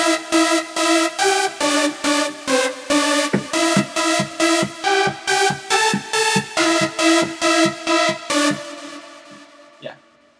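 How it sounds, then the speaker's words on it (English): A German trumpet dance lead preset from the REFX Nexus synth plugin plays a bright, brassy riff of short evenly spaced stabs in a steady rhythm, loud and alone, ending with a fading tail. "A lot of dance producers will use the German trumpet,"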